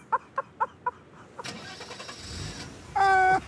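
An old car's engine cranks after a few sharp knocks, then catches and runs in a steady, fairly close hum.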